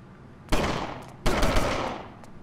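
Gunfire sounds in the police shooter video game LA Cops. Two loud, close bursts of rapid automatic fire come about 0.7 seconds apart, each with a dense crackling tail.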